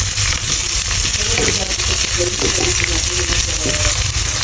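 Garlic and onion sizzle loudly in a hot pan while menudo is being cooked, a constant close frying hiss with a few light stirring scrapes and no talking.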